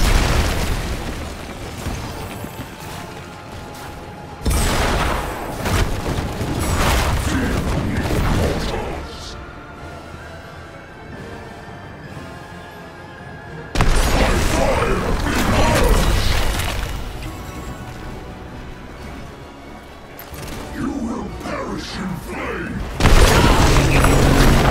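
A keep structure is destroyed in Heroes of the Storm, with loud booming explosions and crumbling mechanical clatter arriving in several heavy waves separated by quieter stretches, and a voice briefly heard amid the game noise.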